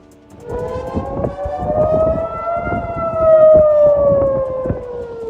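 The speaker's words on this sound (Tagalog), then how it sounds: "May narinig na sirena ang mga residente sa Jerusalem." A loud, steady air raid siren in Jerusalem, warning of rocket attacks, wails continuously, its pitch rising slightly and then slowly sliding down, with low rumbling noise underneath.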